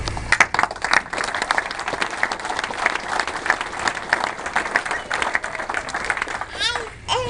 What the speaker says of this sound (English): So let's give the class one more round of applause.